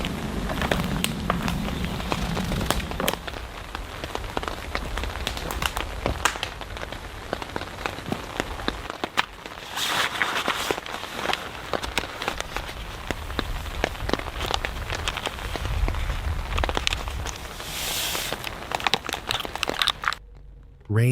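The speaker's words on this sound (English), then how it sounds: "Rain tapped gently on the tarp." Steady rain pattering on a taut tarp at a woodland campsite for a long stretch, dense crackly taps, close and even, with a brief break near the end.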